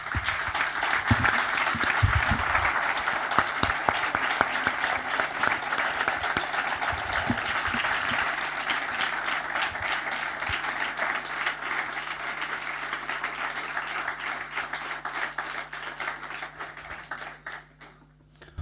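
Audience at an evening political book event in Madrid applauding, a long sustained wash of clapping with a few louder thumps early on, gradually thinning and fading toward the end.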